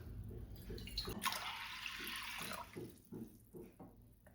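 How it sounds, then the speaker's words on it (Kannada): Water is poured from a tumbler into a pressure cooker holding mung beans, a short close splashing pour lasting about a second and a half, framed by faint clinks and drips. "ಈ ಲೋಟದಲ್ಲಿ 3 ಲೋಟ ನೀರು ಹಾಕ್ತೀನಿ."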